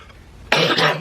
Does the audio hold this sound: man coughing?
yes